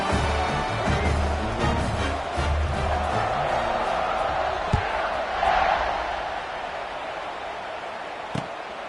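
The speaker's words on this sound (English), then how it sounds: "this crowd is buzzing after that last score" A stadium crowd at a college football game in CFB26 buzzes as a continuous roar, with scattered thumps and cheers rising and falling beneath occasional commentary.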